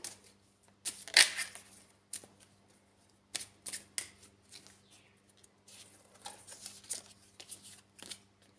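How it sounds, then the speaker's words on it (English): Hand-written song cards being shuffled and drawn for a reading, giving short bursts of crisp riffling and flicking, close and fairly loud, separated by pauses over a faint steady hum. "So I'm going to use some of my telepathy song cards that I've written out. We'll pull one here for this reading."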